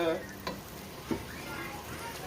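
Shrimp fried rice with tomatoes and pineapple sizzles quietly in a pan, with a couple of faint stirring clicks over a steady low frying hiss.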